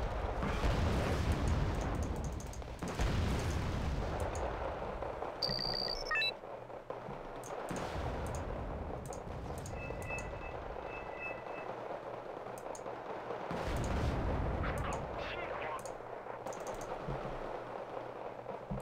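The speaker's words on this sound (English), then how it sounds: "They're trying to hit my WZs with Artie." Artillery fire in the video game Wargame: Red Dragon: heavy booming blasts, with a big burst at the start and more around the middle and near the end, over a steady rumbling battle din with scattered clicks.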